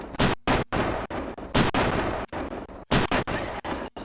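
Heavy .50 caliber gunfire in a run of loud, close single shots and short bursts, each blast ringing out briefly before the next, with a few short gaps of quiet between them.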